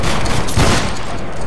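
A loud musket volley in the Battlegrounds 3 video game during a multi-clan line battle, a dense crackling burst of many shots at once that swells and then fades into lingering rumble.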